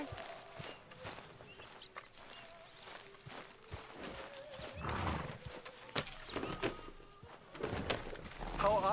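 Horse hooves clip-clop in Red Dead Redemption 2, a steady walking rhythm of close hoof steps with a brief whinny, heard beneath game music and ambient noise.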